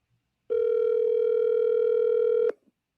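A single steady ringback tone sounds on an outgoing phone call, lasting about two seconds before cutting off, clear and close with no talk over it.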